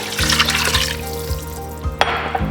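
Water is poured into a pot of beef pot roast on the stove, a steady close splashing stream over a low, steady hum, with a sharp clink near the end.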